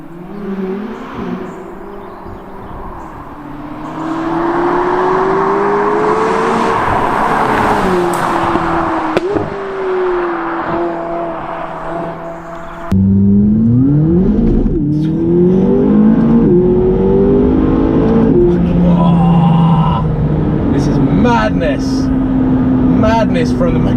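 McLaren 570GT sports car accelerating hard from inside the cabin, engine note climbing through gears with rising and falling pitch sweeps, loud and steady, with a brief shift and stronger pull in the second half.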